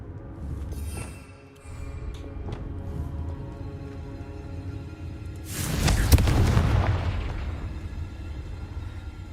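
A Confringo blasting spell goes off in Hogwarts Legacy: a loud, broad burst swells up around the middle of the clip and decays over a few seconds, over a low steady rumble and some softer thuds earlier on.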